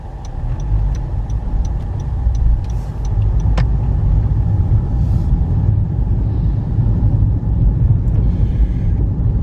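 Cars merge in road traffic in a zipper merge, heard as a steady low road and engine rumble from inside a moving car, with a regular light ticking early on.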